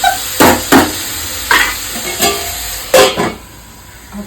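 Food sizzling in a pan on the stove as a spoon stirs it in a series of scraping strokes, close and fairly loud, with no talking.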